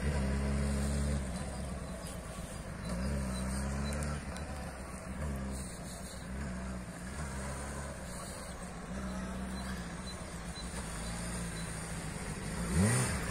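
A motorcycle engine at a riding school revs repeatedly in rising and falling surges as a beginner slips the oil-bathed clutch, held at moderate distance over a steady drone.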